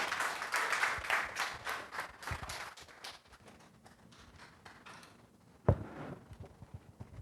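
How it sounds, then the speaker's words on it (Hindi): An audience welcoming a speaker at a health session with a few seconds of sparse, fairly faint clapping that thins out to scattered claps, then a single sharp knock near the end. "प्लीज़ तालियों से उनका स्वागत करें"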